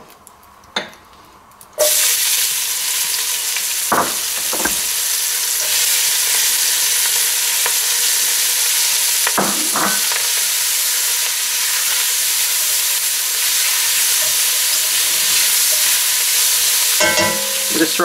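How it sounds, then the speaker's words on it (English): Onion and bacon fry in a pan where lamb shanks were just browned. After a quiet opening, a loud, steady sizzle bursts in and runs on, broken by occasional scrapes and stirs. "then we'll get the onion and the bacon in"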